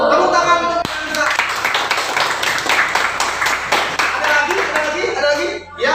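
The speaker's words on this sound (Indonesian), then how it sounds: "Tepuk tangan untuk Anissa." A classroom of students clapping together for a classmate, a dense burst of rapid hand claps close by, with voices talking over and around it before it fades at the end.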